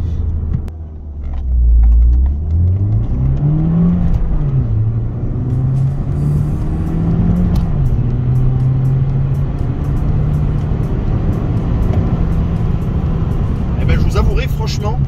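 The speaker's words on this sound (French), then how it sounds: "On va faire une petite accélération, un 0 à 80, tout en restant dans les limitations de vitesse." A Citroën DS3 Racing accelerates from a standstill to 80, its engine rumbling and rising in pitch through several gear changes, heard from inside the car with someone talking over it.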